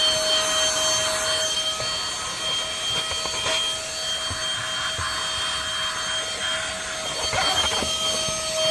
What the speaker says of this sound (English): So let me go and get the vacuum.